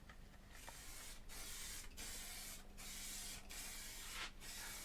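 High coat lacquer hissing from an aerosol spray can in five steady bursts of a second or so each, with short pauses between, loud and close.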